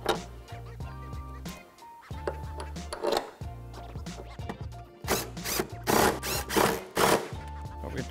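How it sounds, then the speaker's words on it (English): A ratchet reinstalls bolts on a Ford Mustang GT350 shock mount, producing repeated short bursts of clicking and metallic scraping in a workshop, with several loud clusters near the end and pauses between them. "And reinstall the bolts."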